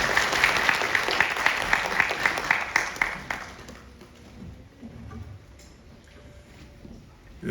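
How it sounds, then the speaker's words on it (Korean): Audience applause welcoming the president of the Korean Society of Civil Engineers to the podium at a National Assembly infrastructure forum, a dense burst of clapping for about four seconds that fades into quiet room noise. "큰 박수로 맞아주시기 바랍니다"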